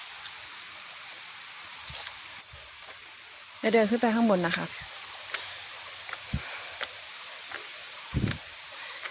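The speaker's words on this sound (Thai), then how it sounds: "ได้ยินเสียงน้ำไหลไหมคะ" Water flows at Sapan waterfall in Nan province, heard as a steady, broad hiss throughout, with a person speaking briefly over it and a few scattered knocks and footsteps.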